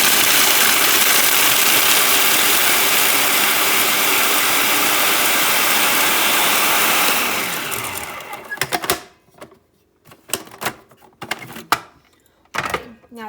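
Kitchen appliance whirring loudly and continuously as it chops pecans and almonds for a crust, then winding down into scattered clatter and knocks.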